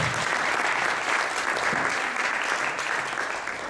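Sustained applause from an audience at a university welcoming address, a dense even wash of many clapping hands that holds steady and then fades slightly toward the end.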